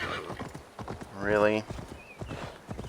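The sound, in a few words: horse hooves in the video game Assassin's Creed Valhalla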